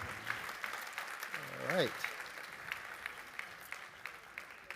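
A conference audience gives a round of applause at a sustainability event, steady moderate clapping carrying on throughout while someone speaks briefly over it.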